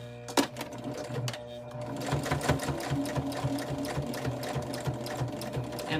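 Sewing machine stitching along the edge of a quilted placemat through thick layers of fabric and batting, a steady close mechanical whirr with rapid rhythmic needle clatter that picks up after a brief start.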